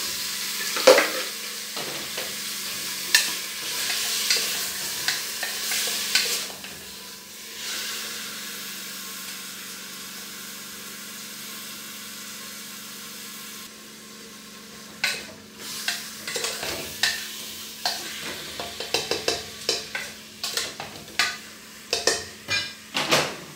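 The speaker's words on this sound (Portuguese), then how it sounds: "Agora eu vou refogar a carne, que já está temperadinha" Seasoned meat sautés in a pan with a soft steady sizzle, a brief quieter gap, then a run of sharp metallic clinks and scrapes of a utensil stirring against the pan.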